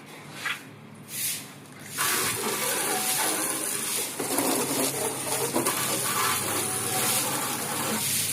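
Water sprays and splashes continuously over a dirty Activa scooter being washed, a steady close hiss that follows a few soft knocks and rustles at the start.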